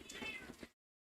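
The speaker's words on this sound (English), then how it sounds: "That's what she was meowing for." A house cat gives a single short, close meow lasting under a second, followed by silence.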